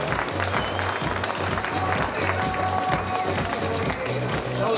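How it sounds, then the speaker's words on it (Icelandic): A crowd at an Icelandic stallion show claps for the horses, steady continuous applause at moderate loudness with a low rhythmic pulse running underneath. "Við skulum gefa þessum hestum gott klapp."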